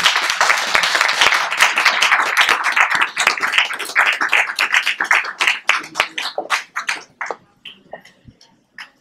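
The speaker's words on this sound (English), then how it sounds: "Let's give a round of applause for Renald." A crowd at an exhibition event claps loudly and briskly, then the applause thins into scattered individual claps before dying away.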